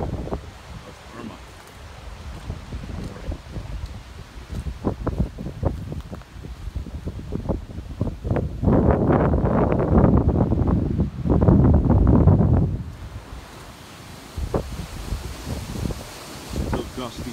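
Gusty winds during Hurricane Irma in 2017, buffeting the microphone in loud, roaring surges with rustling between gusts, heaviest midway, as a person talks outdoors.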